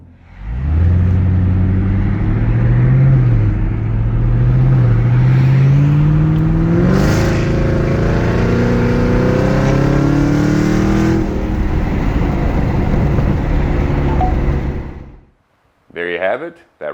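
Chevrolet ZL1 Camaro driving close by, its loud engine rising through gears and revving hard for several seconds before cutting out abruptly near the end.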